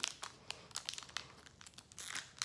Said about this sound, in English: Let's get into this next pack. If I could get it open.